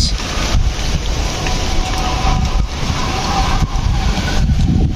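Loud, steady wind roars and buffets the microphone throughout during rain, a constant rushing noise with brief gusty swells.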